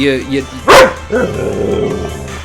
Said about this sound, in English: you're not gonna just sit there and fucking bark at me